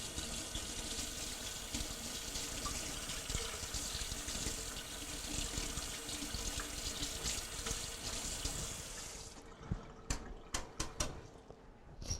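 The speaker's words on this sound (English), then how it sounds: "I'm going to have to wash this off." Water runs steadily from a kitchen faucet as a whisk is rinsed under it, a continuous close splashing that cuts off near the end, leaving a few scattered drips and clinks.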